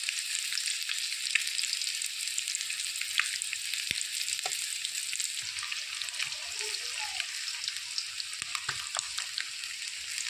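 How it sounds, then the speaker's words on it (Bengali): Eggs that were scored with a knife and rubbed with salt and turmeric fry in oil in a pan, giving a steady, even crackling sizzle. A few sharp pops and light utensil clicks stand out, and no one speaks. "ডিম ভাজা হয়ে গেছে"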